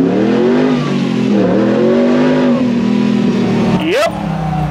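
Engine of an LS V8-swapped Jeep CJ-7 on one-ton axles revving up under acceleration, a steady loud drone climbing in pitch with a sharp rise near the end, with voices over it.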